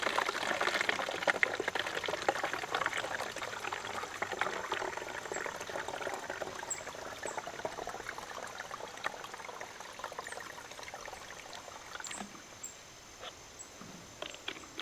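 Water streams steadily from the nozzle of a Stanley Adventure 2 gallon jug, a soft, continuous, fairly quiet pour with no talking.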